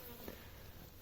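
Honeybees buzz steadily inside a shipping package for installing into a hive, a close, continuous insect hum with no talking.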